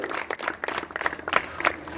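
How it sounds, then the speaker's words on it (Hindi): Children and guests applaud at a village youth group's general knowledge competition ceremony in Mathura, a dense, steady patter of many hands clapping throughout, moderately loud and continuous. "तालियों से स्वागत किया जाए बच्चों"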